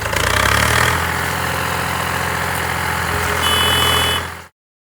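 Tractor engine idling during sugarcane loading, a loud steady low rumble with vibration that holds evenly for several seconds, then cuts off abruptly.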